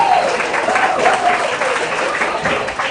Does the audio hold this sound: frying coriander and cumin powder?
no